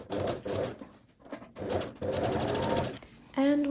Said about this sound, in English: I'm going to start with my front piece and we're going to sew the darts in.